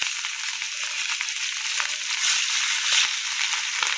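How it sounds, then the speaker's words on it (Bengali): Pieces of katla fish fry lightly in a pan with a steady, even sizzle that swells slightly toward the end, close and alone with no voices. "এখানে মাছগুলো না হালকা করে একটু ভাজবো"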